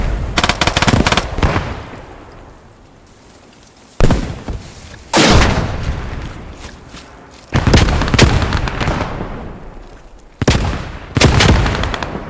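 Submachine gun fire from an MP40 in the World War II shooter Squad 44, loud bursts of rapid automatic shots recurring roughly every few seconds, each burst trailing off into echoing reverberation.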